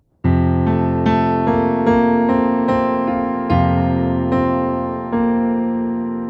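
Piano plays a worship melody as a tutorial example, with a series of sustained chords and notes struck roughly every second and left ringing, with no voice over them.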